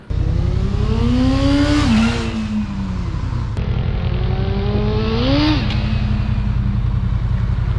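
A Honda CBR400RR NC29 sport motorcycle engine revs hard at high RPM, its pitch climbing and dropping in two loud, sustained sweeps, close by and with no talk over it.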